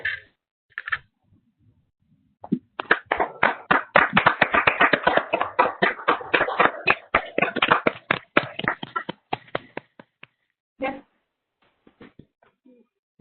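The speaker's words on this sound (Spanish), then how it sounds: "Les vamos a pedir un fuerte aplauso," Audience at an afternoon session of technical presentations applauds in a run of quick, crisp hand claps that swells, holds for several seconds and thins to a few last claps.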